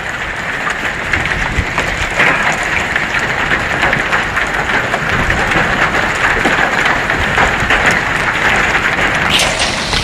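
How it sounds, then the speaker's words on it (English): Large hail pelts down during a tornado storm as a loud, dense, unbroken roar of impacts, steady from start to finish with no voices. "Got large hail coming down now."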